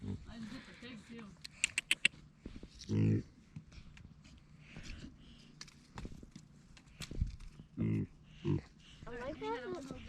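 A pig on a homestead grunting in a few short, loud bursts amid people talking and moving about outdoors.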